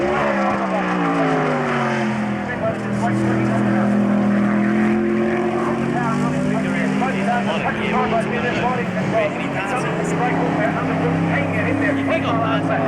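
Australian Sports Sedans race at about 150 mph down the back straight at Baskerville in 1991, engines droning steadily throughout with a loud, sustained whine and a commentator talking over it.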